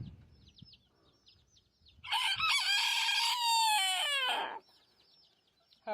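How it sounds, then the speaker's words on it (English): A rooster crows once, loud and close, with faint clucking and chicken chatter from the flock before and after; no talk. "My gentleman chicken friends."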